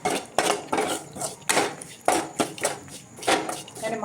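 Salted mango pickle with fenugreek, turmeric and asafoetida powders stirred in a pot with a spoon, giving repeated clinking, scraping knocks at an uneven rhythm, close and fairly loud.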